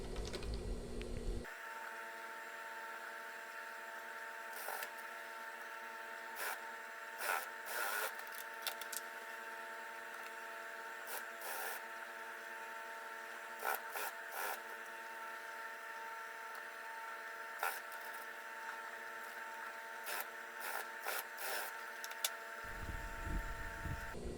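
A sewing machine, sped up, sews the placket of a lined batik shirt as a continuous mechanical whir with rapid clicking and ratcheting ticks that runs steadily for about twenty seconds before stopping.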